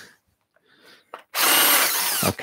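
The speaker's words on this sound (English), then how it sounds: "Let's take the drill off." A power drill bores holes in wood during a woodturning job, starting with a brief burst, then running loud and steady for about a second before cutting off, with faint quieter handling sounds beforehand.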